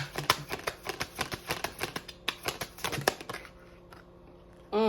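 Playing cards shuffled by hand, a rapid series of sharp riffling flutters and snaps in quick bursts, close and fairly loud, with the last two seconds trailing off to quiet.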